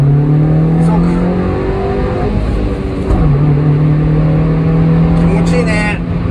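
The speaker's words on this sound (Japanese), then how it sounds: "意外にエンジンも気持ちいいし、 気持ちすっごいレスポンスいいよね、これね。" The engine of a Nissan Note Nismo S revs and accelerates, a steady droning hum that climbs in pitch, drops, then rises again, heard from inside the car under ongoing conversation.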